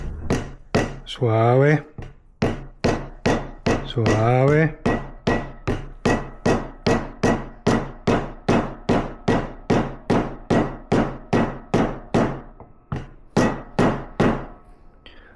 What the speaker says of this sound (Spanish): Y con un martillito de goma le vamos dando.